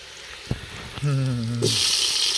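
Tomatoes are tipped into a pot of frying chicken biryani kootanchoru; a couple of knocks and a brief tonal hum give way to a loud, sudden burst of hissing sizzle that holds to the end.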